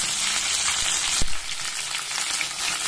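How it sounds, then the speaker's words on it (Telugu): Vegetables such as beans, drumsticks, radish and carrot frying in a pan, a dense, even hiss of oil sizzling close by, with a single knock of a utensil partway through. "బీన్స్, అన్ని వెజిటేబుల్స్ వేసి బాగా వేయించుకోవాలి."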